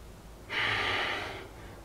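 A single steady exhaled breath during a mindful breathing exercise, rising quickly into a soft, airy rush that lasts about a second and then fades, heard close with no talking.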